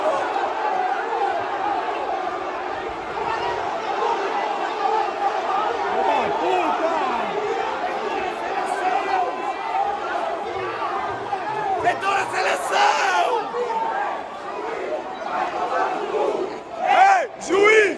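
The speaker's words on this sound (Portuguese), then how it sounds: "E a torcida tá jogando junto." A large crowd of football supporters chants together in a stadium during a Guarani versus Ceará match at Brinco de Ouro, a dense, rhythmic roar of many voices rising and falling with louder bursts near the end.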